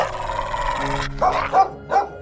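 A large dog barks loudly and close, in three sharp barks following a sustained tonal sound that cuts off abruptly.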